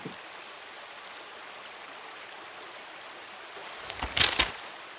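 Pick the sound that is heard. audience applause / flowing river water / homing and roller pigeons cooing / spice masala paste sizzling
flowing river water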